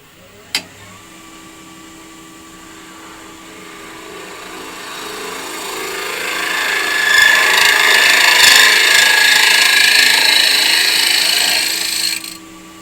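A woodturning lathe hums steadily while a gouge bites into a wooden box, the cutting noise swelling into a rough, hissing scrape before stopping abruptly.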